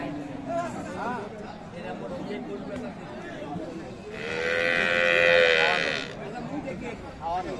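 A Friesian bull calf moos in one long, loud, drawn-out call at Aftabganj livestock market in Dinajpur, with people talking and market chatter around it.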